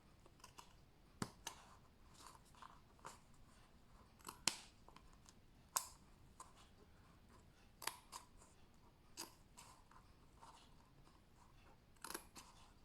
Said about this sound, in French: On va même prendre des ciseaux, tiens.